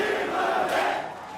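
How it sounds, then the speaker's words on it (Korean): An election campaign office crowd erupts in loud cheering and shouting, a dense roar that peaks and then slightly drops off within a second and a half. "김은혜 후보 선거 상황실에서는 환호성이"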